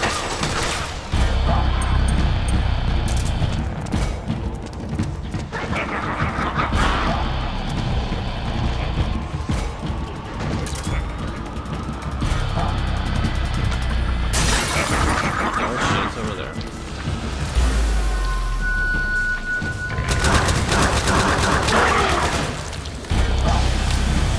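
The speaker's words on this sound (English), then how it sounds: "I just want to keep shooting it with rockets" Rockets and bombs explode in Metal Gear Solid 4: Guns of the Patriots, loud crashing blasts with shattering debris bursting in repeated waves over a constant low rumble of vehicles and gunfire, while a player talks over the chaos.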